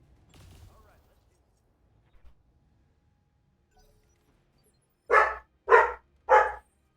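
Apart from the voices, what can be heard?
dog barking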